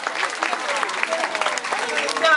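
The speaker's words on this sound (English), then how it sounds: "Let's hear a great big round of applause for our amazing daredevil macaw." Audience applause at a parrot show after a macaw's daredevil stunt: steady, dense clapping from a crowd, fairly loud and continuous throughout, with no talk over it.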